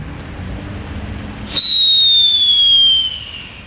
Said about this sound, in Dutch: Nog een geel fluiter.